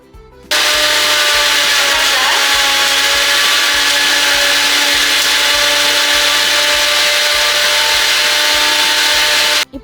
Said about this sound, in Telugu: ఇప్పుడు దీనిపైన మూత పెట్టి గ్రైండ్ చేసుకోవాలి.